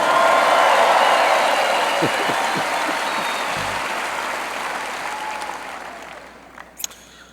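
Parents in a large crowd applaud at an Auburn University spring commencement ceremony, a dense, steady wash of clapping that starts loud and slowly fades over several seconds, with a couple of sharp clicks near the end.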